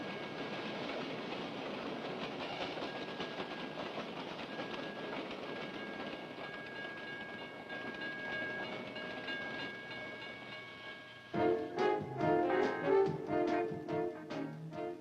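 A freight train rumbles past steadily with faint screeching tones, then loud rhythmic clacking of wheels over rail joints as railcars roll by close.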